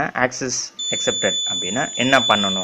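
An Arduino RFID reader with a buzzer sounds a long, steady, high-pitched beep when access is accepted, starting partway in and holding under someone talking in Tamil.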